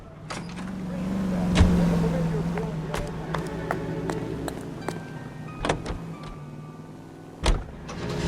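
A car in the crime game L.A. Noire rolls along with a steady low engine hum, a whirring motor swell and a couple of soft thumps, while voices talk over it.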